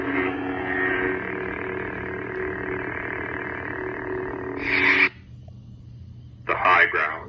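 An Artsabers Silver Unicorn FX lightsaber running The High Ground sound font gives a sustained, tonal electronic hum for about five seconds, then cuts off with a bright crackling flourish, followed by a second sharp burst after a pause.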